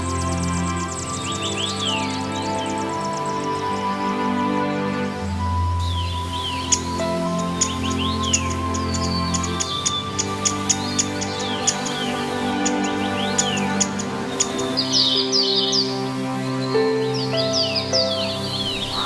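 Mountain birds in breeding season calling in Danda, with many overlapping chirps and whistled phrases scattered throughout against a steady background hum.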